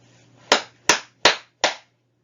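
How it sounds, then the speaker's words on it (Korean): An audience claps together in unison before a lecture on preventing illegal spam: four sharp, evenly spaced claps ring out, each fading quickly, followed by quiet. "먼저 강의를 시작하기 전에 박수를 3번 치고 시작합시다."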